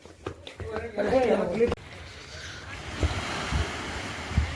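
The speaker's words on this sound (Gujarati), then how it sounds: "અત્યારમાં જોઈ શકીએ છીએ આપણે દીવના દરિયાઈ કાંઠે જઈ રહ્યા છે" Sea waves wash onto the Diu coast in a steady broadband rush, with wind buffeting the microphone; a voice talks briefly at the start before the surf and wind continue on their own.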